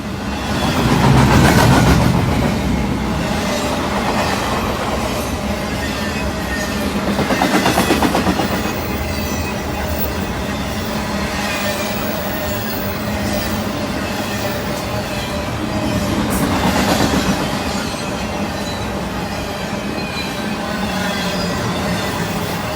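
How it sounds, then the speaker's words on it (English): A BNSF freight train barrels through town with a maroon and gray Canadian Pacific SD70ACU locomotive trailing third, a steady loud rumble of rolling cars and clickety-clack wheels, swelling in waves as horn-like bursts pass, with no talk. "ZLAC-ALT barreling through town, with one of Canadian Pacific's maroon and gray scripted SD70 ACU motors trailing third in the consist"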